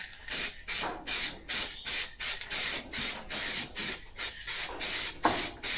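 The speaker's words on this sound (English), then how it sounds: "I'm going to paint this with the spot spray nozzle best I can." A spray gun with a spot spray nozzle lays paint onto a car in short repeated bursts, each a hissing spray of about half a second followed by a brief gap. It is close and fairly loud, with no voices.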